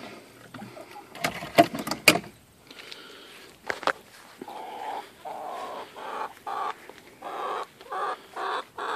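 Chickens in a backyard coop built under a deck, with a few scattered sounds early on, then a steady run of short, repeated clucks close by.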